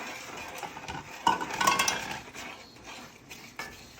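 Evaporated milk being stirred into a pecan praline mixture in a pot, with a soft bubbling sizzle under scraping and clinks of a utensil against the pot, no talking.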